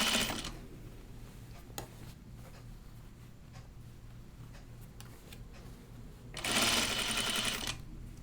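A sewing machine runs in short bursts while stitching just inside a seam on a garment, with a steady motor hum and a louder burst near the end; no talk.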